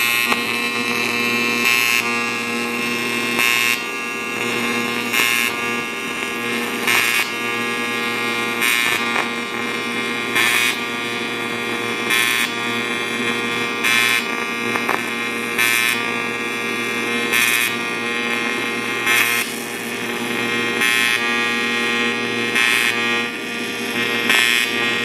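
TIG welder working on aluminum in a practice session, a steady high-pitched electrical buzz held throughout with regular brief pulsing bursts, close and fairly loud with no talk.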